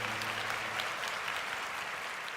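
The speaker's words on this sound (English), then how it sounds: "I'm gonna give myself a round of applause for just being damn excited." A burst of steady, dense applause from a crowd, clapping evenly and fairly close throughout with no voices over it.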